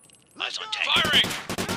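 Rapid gunfire in Takedown: Red Sabre, a tactical shooter, firing at an enemy spotted near a tank. A dense, loud burst of shots runs for about a second, with a brief voice just before it.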